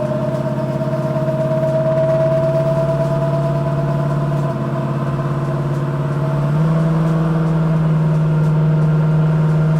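A car engine runs on a dyno with no load, a loud, steady tonal drone that holds its pitch, dips briefly, then steps up to a slightly higher, louder hum, with no talking.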